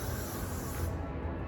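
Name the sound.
freeze hair spray being sprayed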